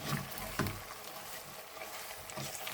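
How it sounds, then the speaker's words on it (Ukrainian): Goulash meat sizzles softly in a pan as it is stirred with tomato paste and flour, giving faint, steady frying with a few scraping knocks. "Перемішуємо."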